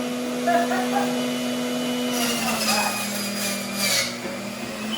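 A kitchen juicer machine whirs steadily while making green juice, a close, continuous motor drone that dips and strains slightly as produce goes in, with some voices faintly in the background.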